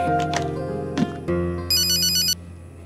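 An electronic ringtone trills from a phone indoors, clear and close, with a short bright high-pitched burst in the middle before it cuts off abruptly; a few soft knocks precede it and no voices are heard.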